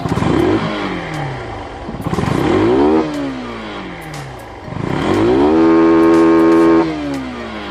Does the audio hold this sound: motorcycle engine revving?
yes